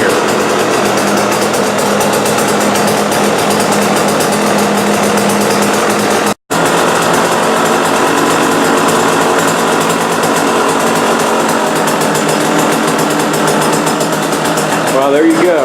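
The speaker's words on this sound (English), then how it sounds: "I'm gonna take it down the road here for a little rip, blow some of the fuel out of it" A 2016 KTM 125 SX two-stroke dirt bike roars loudly and continuously as it is ridden down a road, a high buzzing engine note with a brief cutout midway, with voice over it.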